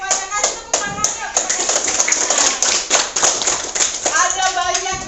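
A class of students clapping together, brisk loud overlapping claps filling the room with a few voices talking over them.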